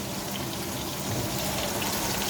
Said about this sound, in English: So what I'm going to do is get some cold water first.